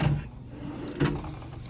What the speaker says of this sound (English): Okay, we've got a drawer.